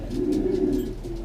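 Homing racing pigeons coo steadily in a low, throaty drone, several birds overlapping close by in one continuous murmur with no talk.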